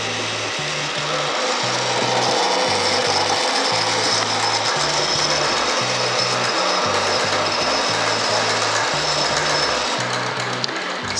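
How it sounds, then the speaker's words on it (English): A drum carder turns and cards sheep's wool into roving, giving a steady mechanical whirr with a regular ratcheting, clicking rhythm that runs nearly evenly and fairly loud throughout, with no talking. "going to go around to the other side of the carder and I'll turn it on and show you what it does"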